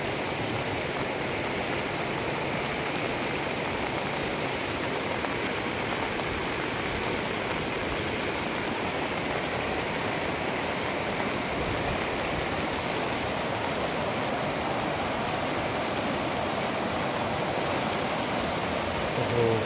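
A flooded river swollen by heavy rain rushes past in a continuous, even roar of churning water, loud and unbroken throughout with no voices.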